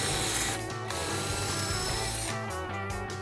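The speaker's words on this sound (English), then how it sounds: "It's the drill." Power drill working loose the small metal wheels on a vintage zed bed, a steady mechanical whirr with ratcheting clicks filling the whole stretch, close and loud, no talk.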